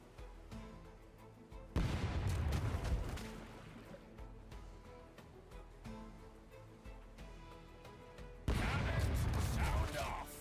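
Ship cannons fire in the pirate video game Rogue Waters: two heavy, booming broadside volleys roughly seven seconds apart, each loud and rumbling, over a steady bed of game music and ambience.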